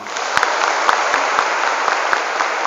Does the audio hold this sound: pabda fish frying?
no